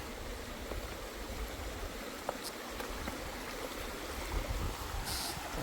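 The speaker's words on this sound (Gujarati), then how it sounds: "અહીંયાથી આખું પાણી એટલું ફાઇન આવે છે" Clear river water flowing beneath a bridge in Scotland, a steady, moderate rushing wash with faint splashes running throughout.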